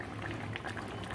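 A pot of fish curry with vegetables and tangra fish simmers, giving a faint, continuous bubbling with small pops.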